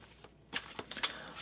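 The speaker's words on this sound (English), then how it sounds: "One more shuffle" A quick riffle of cards shuffled close by, a short burst of crisp flapping after a brief quiet moment.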